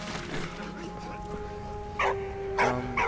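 In Valiant Hearts: The Great War, a dog gives two short, sharp barks a moment apart over a steady tonal background.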